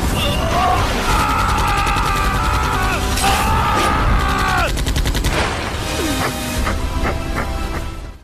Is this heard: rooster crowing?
no